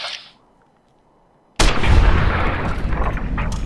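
A single loud gunshot in Fallout: New Vegas cracks out of near silence and rolls into a long, booming echo that fills the rest of the moment, close and forceful.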